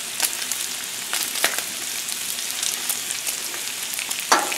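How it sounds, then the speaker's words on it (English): Bacon frying on a Blackstone griddle gives a steady, close crackling sizzle with scattered sharp pops of spitting grease throughout, and no talking. "this bacon cooks a lot of grease out of it"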